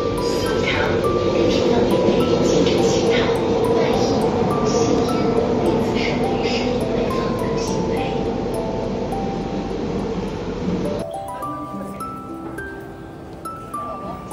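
Changsha metro subway train on the move, a steady loud rumble with faint metallic clinks and a sudden drop in level near the end, with murmuring voices in the background.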